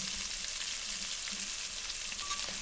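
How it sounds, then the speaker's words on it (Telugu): Fish pieces fry in hot oil in a pan, giving a steady, close sizzle and crackle with faint stirring, continuous throughout without any talk. "నూనెలోనే అలా వేయించుకుంటూ ఉండాలి."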